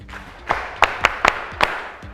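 Contestants at a Ghanaian local dish cooking challenge clap for themselves in a short burst of about six sharp, separate claps, fairly close, with no talking.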